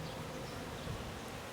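Bees fly around their beehives, making a soft, continuous, low buzzing that stays faint and steady, with no voices.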